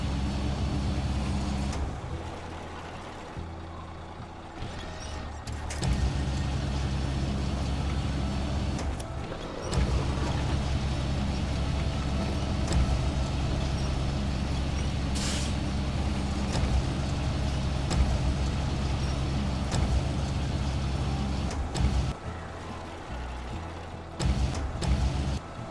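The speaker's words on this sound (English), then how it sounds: "Scandinavia deserves a Scania truck only." A Scania truck in the snowy off-road game SnowRunner idles and rumbles with a steady low engine drone, broken by short bursts of air brake hiss, continuous and close with no talking.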